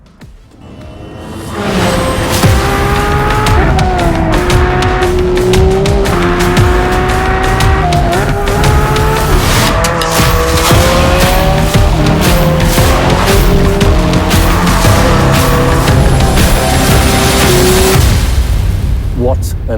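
A Porsche race car lapping the Nürburgring circuit screams at high revs for the whole stretch, its engine rising and falling through repeated gear changes with tyre squeal, loud and close throughout.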